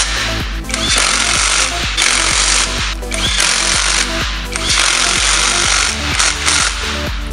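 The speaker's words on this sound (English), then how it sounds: "After reinstalling the tire back on, I had to make sure that the lug nuts were tight." Impact wrench tightens lug nuts on an Aston Martin wheel in a garage, loud rattling bursts of hammering that start and stop in several rapid runs with short pauses between them.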